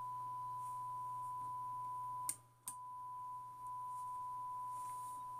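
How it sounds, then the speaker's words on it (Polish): Steady 1 kHz audio test tone fed through an old communist-era Polish transmitter, a continuous pure whine with a low hum beneath, broken by a couple of brief clicks midway. "Sobie zmienimy teraz na 1 kHz."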